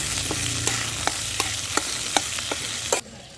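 Boiled potatoes dropped into curry leaves frying in a pan, with a steady sizzle broken by a string of sharp spatula scrapes and knocks, ending abruptly as the sizzle cuts off.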